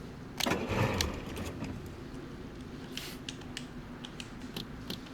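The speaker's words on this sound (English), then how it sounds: "Start engine." A vehicle in DayZ cranks and starts after a spark plug is fitted, a loud mechanical churn in the first second settling into a low, steady idle with a few sharp clicks.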